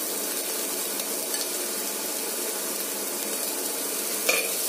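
Taro leaves tossed onto sautéed onions in a pan give an even, continuous hissing sizzle with a faint stir or two and a brief clink near the end; no talking.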